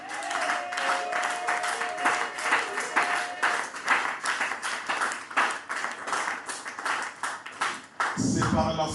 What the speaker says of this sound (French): Acclame pour ce cri de joie